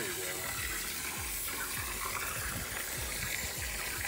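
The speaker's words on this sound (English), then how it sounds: "Go ahead and kneel down and throw some water in there." Water gushing and splashing onto a pile of biochar, a steady broadband wash with rhythmic low thumps beneath, close and fairly loud, with no talk.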